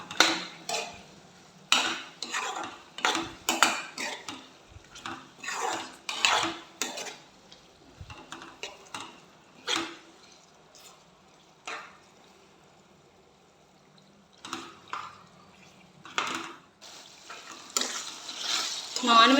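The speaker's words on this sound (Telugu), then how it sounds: "జింజర్ గార్లిక్ పేస్ట్ వేసుకొని అది కూడా పచ్చివాసన పోయేదాకా ఫ్రై చేసుకోవాలి" Ginger garlic paste frying in oil in a pan, with repeated clattering bursts of a ladle scraping and stirring against the metal between quieter stretches of low sizzle; no talking.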